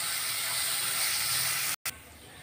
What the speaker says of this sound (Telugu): కరివేపాకు కొద్దిగా పుదీనా కొంచెం ఉల్లిపాయ ముక్కలు కొన్ని సన్నగా తరిగిన కొత్తిమీర కూడా వేసుకొని ఒక 2 నిమిషస్ ఫ్రై చేసుకోవాలి